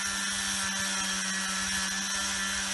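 Power drill cleaning the connections of a small Dinky toy motor, a steady whirring hum running close and continuously throughout.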